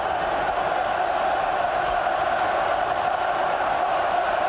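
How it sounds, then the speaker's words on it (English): Packed rugby stadium crowd at a Wallabies versus Lions test, roaring in a dense, continuous wall of cheering and shouting that holds loud and steady throughout, with no clear breaks or individual voices. "Look at this crowd."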